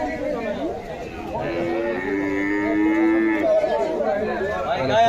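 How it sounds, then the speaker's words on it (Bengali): Cattle at a village livestock market low loudly several times over the space of a few seconds, with long drawn-out moos rising above a steady crowd murmur and the chatter of people in the background. "এখানে আমার পাশাপাশি আছে গরুর বাজার, গরুর হাট বসছে, ছোট ছোট গরু"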